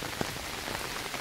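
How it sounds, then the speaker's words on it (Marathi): Heavy rain pours down on a village mango orchard as a dense, steady hiss with no break, close and loud, and a single sharper drop stands out near the start. "आज इथे जोराचा पाऊस आमच्या गावामध्ये चालू आहे"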